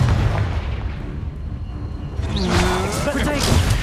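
Confringo fire-blast spell going off during a Hogwarts Legacy battle, a loud booming burst with crackling tail over constant combat din, with voices talking over it.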